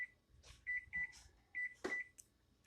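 An electronic kitchen timer gives a string of short, sharp, high beeps, single and paired, as it is set near a stovetop while cooking.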